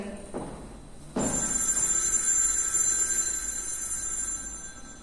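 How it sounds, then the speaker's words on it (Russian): A telephone rings in a youth theatre stage play: a faint click, then a sudden shrill, continuous electric bell that keeps ringing for several seconds in a quiet room. "Вдруг зазвонил телефон."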